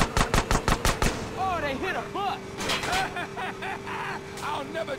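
Bursts of gunfire from GTA San Andreas during a motorbike mission: a rapid string of loud shots in the first second, then scattered shots under overlapping game voices and effects.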